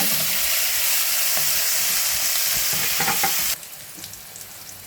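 Capsicum fries in hot oil with onion and curry leaves, a loud, steady sizzle with a few stirring clicks that drops sharply to a quieter hiss near the end.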